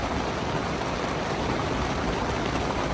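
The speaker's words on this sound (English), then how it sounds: "it is absolutely pouring and storming" Heavy rain pours steadily in a thunderstorm with occasional hail, a dense, loud, unbroken roar filling the whole span without any voices.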